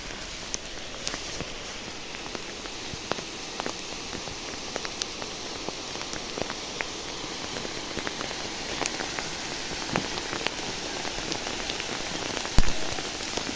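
Hail falling in mid-October in a garden in the Kyiv region, a dense, steady patter of small ice pellets on surfaces with scattered sharper ticks throughout, continuous and close, with no talk.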